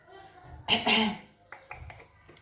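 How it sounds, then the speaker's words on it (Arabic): A couple of short coughs burst out close by, followed by light chatter and small clicks. "الشطه بتخلينا كحه"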